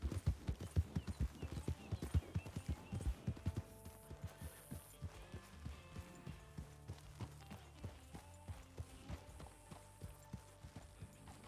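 Horse hooves clip-clop in Red Dead Redemption 2 (RedM), a quick, dense run of hoofbeats slowing into a steadier walking rhythm, fairly close and fairly quiet, with faint background hum.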